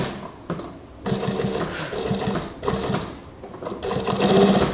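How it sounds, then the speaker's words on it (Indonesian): A sewing machine stitches the button placket of a long-sleeved koko kurta in several close, loud bursts of rapid whirring separated by short pauses. "Bentar, tak jahit dulu."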